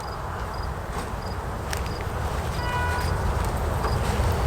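Honey bees buzzing around an open hive while supers are added, a steady low droning hum filling the background, close and continuous, with faint clicks and light handling noises on top.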